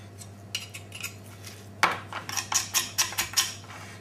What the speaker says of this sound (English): so we're scraping the bones down here now like that